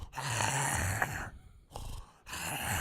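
A man imitates a friend snoring in his sleep with rough, throaty groaning breaths, broken by short pauses between the drawn-out snores.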